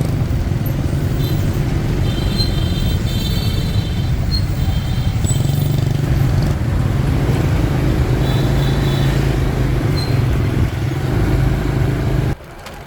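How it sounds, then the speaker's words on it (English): Midday street traffic in Vietnam, cars and motorcycles rumbling past in a steady, loud, congested flow with occasional horn beeps, continuous throughout before cutting off abruptly near the end. "Even though it was midday, the streets were still congested with traffic."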